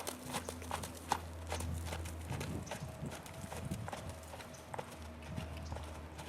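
Hooves of a soft-mouthed rope horse clip-clop at a steady walking rhythm, close and distinct over a low background hum, with a few sharper strikes.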